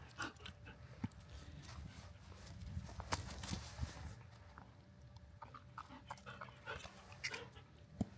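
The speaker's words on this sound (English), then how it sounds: "This is your dog." A dog breathes and pants out in the snow, quick soft huffs with scattered faint scuffs and light thumps heard close, quiet overall, with no talking.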